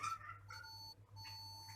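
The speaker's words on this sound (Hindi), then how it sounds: "ये दोनों जब पॉइंट मिलेंगे तो आपको बीप सुनाई देगी" A multimeter gives short electronic continuity beeps when its black and red probe wires touch, while checking a car door switch. Several brief, faint tones are heard over a low hum.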